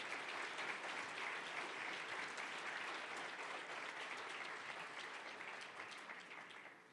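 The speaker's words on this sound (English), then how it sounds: "Applause for Colosso." An audience breaks into sustained, dense applause that holds steady for several seconds, then tapers slightly toward the end.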